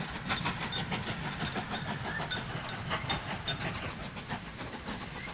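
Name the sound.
train moving in the video game Mashinky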